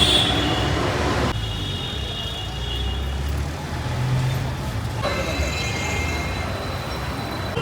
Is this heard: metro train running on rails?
yes